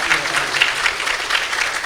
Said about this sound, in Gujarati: તો એક વખત મહારાજને ફરી તાળીઓથી વધાવીએ.